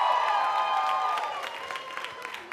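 Comedy club audience at a Gotham Comedy live show bursts into clapping and cheering, a dense wash of applause and whoops that fades steadily over a couple of seconds with no talk over it.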